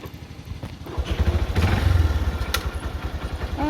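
A motorcycle engine running nearby, its low, throbbing exhaust pulse steady and rising slightly as the bike gets going, with a few clattering knocks over the rumble.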